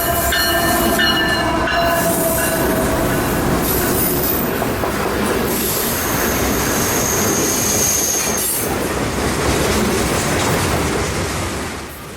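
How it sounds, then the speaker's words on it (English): CSX freight train K779, hauling bulk rock, passes very close and loud, with wheels squealing, rhythmic clickety-clack over rail joints and a steady heavy rumble that fades slightly at the end. "First train of the morning, K779, a bulk rock shipment from Junction City, Georgia to Coleman, Florida"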